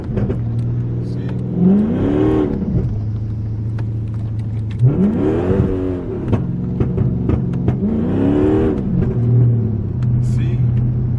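A Dodge SRT revs hard three times while sliding through corners in a quiet neighborhood, each loud, rising and falling engine sweep heard close over a steady rumbling idle.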